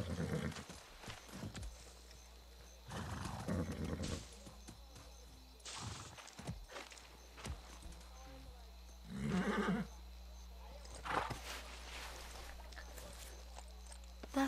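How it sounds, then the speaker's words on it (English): A horse in the video game Far Cry 6 whinnies and neighs several times while hooves clip-clop at a walk, moderately close, with a person talking intermittently over the sounds. "Hey, a magic horse."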